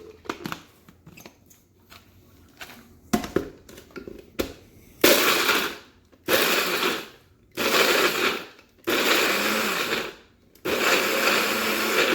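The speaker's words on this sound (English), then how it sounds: "put it in your trusty blender product or heavy duty blender" A blender blending beef whirs in several short, loud bursts separated by brief pauses, after quieter clicks and handling noises at the start.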